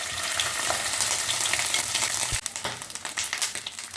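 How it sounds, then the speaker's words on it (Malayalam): Ginger-garlic paste frying in hot olive oil with popped mustard seeds, made for a pickle, sizzles loudly and steadily. A stirring clack breaks in midway, and the sizzle turns choppier and more irregular after it. "കടുക് പൊട്ടിയിട്ട് കുറച്ച് ഇഞ്ചിയും വെളുത്തുള്ളിയുടെ പേസ്റ്റാണ് ഇടുന്നത്"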